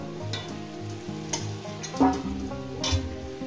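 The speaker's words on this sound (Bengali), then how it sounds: "এবার এই মুখি কচুটাকে আমি আস্তে আস্তে তুলে নেব" Fried taro being lifted slowly out of hot oil, with steady close sizzling, occasional metallic scrapes and knocks of a utensil against the pan, and a brief louder clatter midway.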